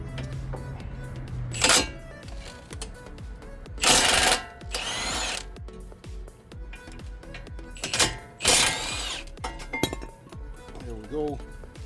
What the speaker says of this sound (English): I'm going to use my impact gun because it's easier and faster.